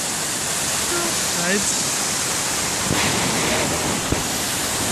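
A waterfall in Plitvice National Park, Croatia, roars as dense, continuous white noise, with a brief voice speaking over it.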